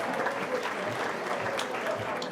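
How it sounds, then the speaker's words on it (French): An indoor audience claps steadily, a dense even patter of many hands at moderate volume with no break, mixed with faint crowd murmur. "Vous pouvez les applaudir, Monsieur Guy Abraham et Madame Sophie Tarel"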